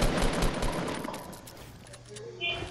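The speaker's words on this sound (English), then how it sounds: "why are you shooting at me" Fortnite gunfire, a dense rapid burst of shots up front that thins out into quieter game noise, with a voice talking.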